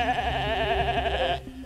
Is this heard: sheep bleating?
yes